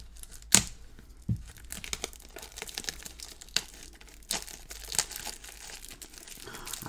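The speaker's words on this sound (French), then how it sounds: "on va s'ouvrir le petit packaging. J'ai pas envie de tout déchirer" A small product packaging box opened carefully, with sparse close crinkles, rustles and a few sharp tearing snaps separated by quiet pauses, with no talk.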